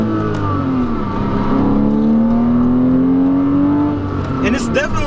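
A 2008 Porsche Boxster with a 5-speed manual gearbox accelerates, its engine note climbing steadily in pitch as revs build, loud and close, then easing off near the end with brief clicks.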